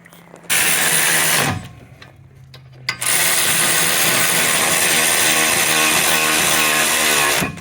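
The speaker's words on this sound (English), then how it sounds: "I'm going to tighten those bolts." A loud power tool runs on the rear brake bolts of a 2019 Nissan Altima AWD, with a brief whine, then a short pause full of faint clicks before the motor starts again and runs steadily to the end.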